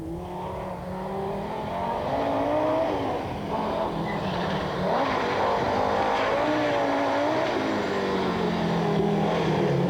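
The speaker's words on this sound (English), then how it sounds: "The five-cylinder Quattro has a sound all of its own." A veteran five-cylinder Audi Quattro rally car with a gearbox problem and a high-rev misfire roars past at the 1994 Jamaica Rally, its engine loud and rising and falling as it revs through gears.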